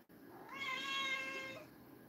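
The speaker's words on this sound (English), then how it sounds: "He's like meowing." A cat gives a single drawn-out meow, clear and fairly close, in a quiet room indoors.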